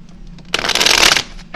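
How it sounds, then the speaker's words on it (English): A deck of cards for a tabletop miniatures game is shuffled once, a brief close riffle burst of about two-thirds of a second on a quiet table. "let's shuffle our fate deck"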